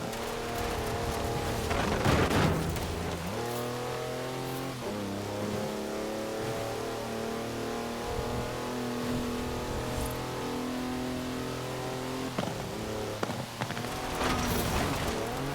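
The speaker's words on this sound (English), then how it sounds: "That's a 4-wheel drive car on mud tyres completely sideways." A 4-wheel drive car on mud tyres drifting sideways in Forza Horizon 4, its engine droning and revving steadily with shifting pitch, close and loud, with gravelly tyre noise bursting in at moments.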